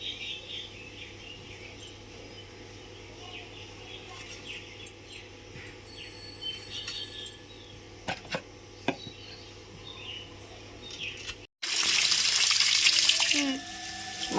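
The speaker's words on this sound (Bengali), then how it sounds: "মাছগুলো আমি ধুচ্ছি" Loach fish being rinsed clean in a kitchen sink, a steady wash of running water with faint clinks and handling noises, ending in a louder, fuller gush of flowing tap water.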